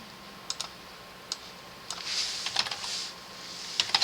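Keys pressed on a computer keyboard for a Ctrl+Shift+D shortcut while editing, heard as a few sparse, light clicks spread across the stretch along with a soft hiss and rustle, with no voice.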